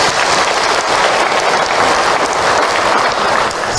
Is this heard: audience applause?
yes